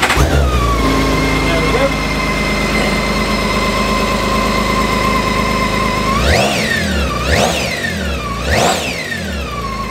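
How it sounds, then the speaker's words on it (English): A 2011 BMW K1600GT SE motorcycle engine idles loudly and close by with a steady hum, then gets three quick throttle blips near the end. Someone speaks briefly over it. "I'll just do a quick start-up for you. Let the bike do its thing."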